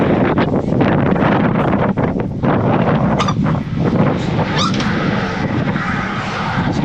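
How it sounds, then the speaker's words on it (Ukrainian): Strong wind buffets the microphone in loud, continuous roaring gusts that fill the whole stretch. "там може вітер повтихне"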